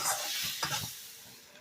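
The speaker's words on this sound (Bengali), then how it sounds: "যতক্ষণ থেকে মশলা থেকে তেল না বেরোবে ততক্ষণ কিন্তু মশলাটা কষাতে হবে" Masala spices frying in oil on a low flame, stirred with a utensil: a soft sizzle with a brief scraping stir, close and quiet.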